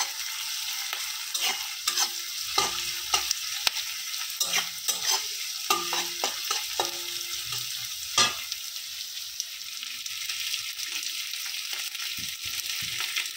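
Sliced onions and boiled potatoes sizzle steadily in a pan, with a spatula scraping and stirring in irregular clusters of close clatter over a constant frying hiss; no one speaks.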